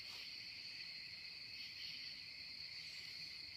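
Steady, high-pitched cricket chirping fills the night air continuously on a forest trail, a dense insect chorus with no voices and only faint low background rumble.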